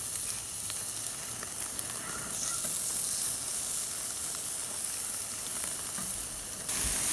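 Johnsonville sausages sizzle steadily over charcoal on a Lodge Sportsman's cast-iron grill, giving an even, close frying hiss with occasional pops and no voices.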